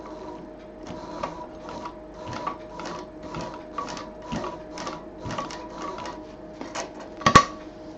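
A sewing machine stitches fabric for a bag in short, rhythmic bursts of mechanical clatter, close and steady, with a small sharp clunk near the end and no talking.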